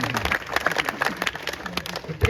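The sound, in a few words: audience clapping at a performance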